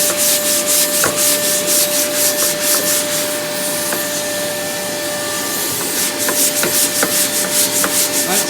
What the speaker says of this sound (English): That sanding block is actually connected up to our Hoover.